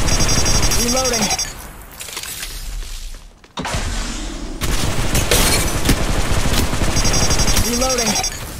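Rapid bursts of automatic gunfire in the mobile battle royale Apex Legends Mobile, loud and close, with a brief lull midway before the shooting resumes alongside game effects and faint voice chatter.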